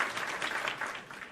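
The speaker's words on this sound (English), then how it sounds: "Another round of applause." Applause from a crowd in a video game cutscene, a short burst of dense clapping at moderate level with no talk over it.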